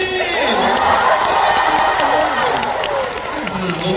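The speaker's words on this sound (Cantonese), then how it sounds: "打俾掌聲嘉英哥先" A live concert audience applauds and cheers for a guest on stage, a loud, sustained crowd roar with clapping, whoops and shouting voices over held musical tones.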